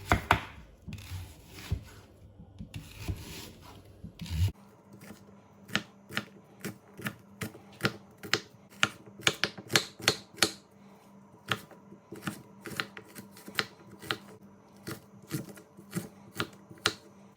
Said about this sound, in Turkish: Öncelikle soğanımızı küp küp doğruyoruz